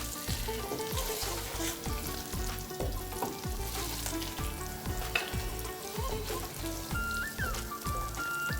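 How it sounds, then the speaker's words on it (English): Lamb karahi curry being mixed from the bottom of a pot, a steady loud sizzle with repeated scraping stirs and clinks running throughout, no voices. "Just gonna give it a good mix from the bottom."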